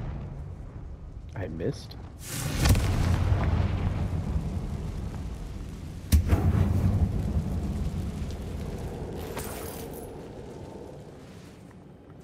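Fiery Confringo spell blasts in a Harry Potter video game go off as two loud explosive booms with rumbling tails, alongside a brief spoken remark.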